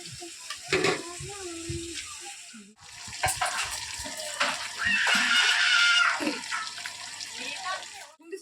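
Mutton with chopped onions, cumin, ginger, garlic and spices sizzles and fries in hot oil in a pan, a crackling hiss that swells and fades in bursts alongside stirring, with a person talking intermittently.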